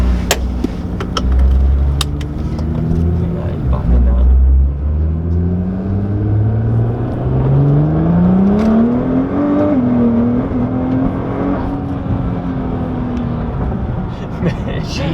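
A 700 hp Nissan R35 GTR, heard from inside the cabin, pulls hard from second into third gear. The engine note climbs loudly, drops briefly at the shift, then rises again into a sustained high roar.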